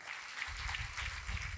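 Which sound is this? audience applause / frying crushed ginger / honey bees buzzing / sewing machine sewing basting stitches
audience applause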